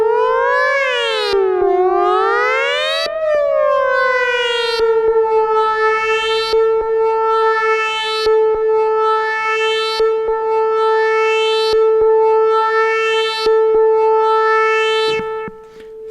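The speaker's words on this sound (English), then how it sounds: "Let's just put my oscillator mix so we're only hearing oscillator 1." A Behringer Neutron synthesizer's first oscillator alone, a loud sustained buzzy tone that bends and sweeps in pitch early on, then holds steady while a bright filter sweep repeats about every one and a half seconds, with no talking.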